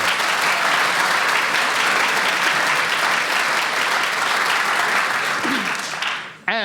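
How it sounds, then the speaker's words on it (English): A studio audience at a quiz show gives loud, sustained applause, a dense wash of clapping that fades out near the end. "That deserves a round of applause."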